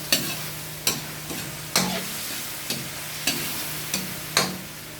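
A spoon stirs pork adobo with string beans in a pan, scraping and knocking against the pan about eight times at a steady, unhurried pace over a soft simmer, close by with no talking.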